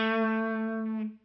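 A guitar sounds a single sustained, distorted note through an effects unit, ringing steadily before a brief slide and quick cutoff, as part of a five-note pattern in shape 1.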